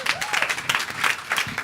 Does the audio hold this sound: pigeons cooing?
no